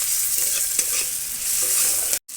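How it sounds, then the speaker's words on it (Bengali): Dried red chillies, cumin seeds and chopped onion sizzle loudly in hot oil while being stirred, a steady close crackling hiss that drops out for a moment near the end. "তেলের মধ্যে শুকনো লঙ্কা জিরে দিয়ে দেবো, পেঁয়াজ কুচি দিয়ে দেবো"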